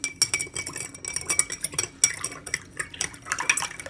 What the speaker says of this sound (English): Then you take your spoon, and then you mix it.